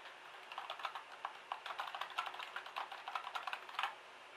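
Fingers type quickly on a computer keyboard while entering username details during an Ubuntu installation on a Mac, a close, steady patter of soft key clicks with no talking.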